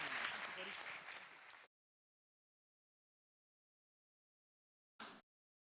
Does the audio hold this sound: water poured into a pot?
no